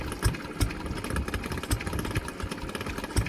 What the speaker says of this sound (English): let you enjoy watching the engines run